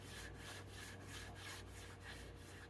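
Oil is rubbed into a wooden cutting board with steady back-and-forth strokes, about three per second. The rasping is soft and even, with no other sound.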